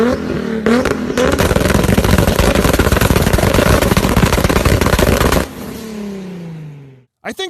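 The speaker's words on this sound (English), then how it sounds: "This is every Supra at a car meet." A Toyota Supra engine at a car meet blasts a harsh, crackling, sustained roar up close, then drops to a lower falling drone and cuts off near the end.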